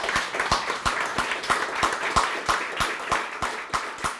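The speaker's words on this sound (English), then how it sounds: "Can we have a round of applause, please?" A lecture audience at the Marx Memorial Library gives a round of applause, with sharp, fairly evenly spaced claps repeating steadily from start to finish at moderate loudness and no talk over them.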